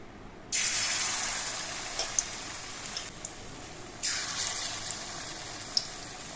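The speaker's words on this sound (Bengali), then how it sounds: "আমি গোটা গোটা পাতা দিয়ে পকোড়াগুলো ভেজে নিচ্ছি" Whole bitter gourd leaves coated in batter go into hot oil as pakoras, setting off a steady close hiss of frying that swells again when another batch drops in, with occasional small pops.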